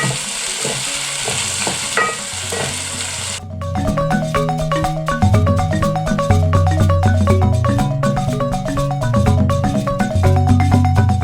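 Chopped onions frying and sizzling in hot oil while being stirred, cooked for a Nile perch dish; a steady loud sizzle with rhythmic clinks of a utensil against the pan, no talk.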